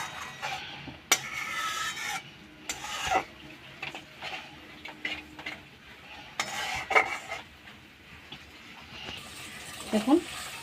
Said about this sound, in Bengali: এবার জলটার সাথে আমি মশলাটা ভালো করে মিশিয়ে নিচ্ছি।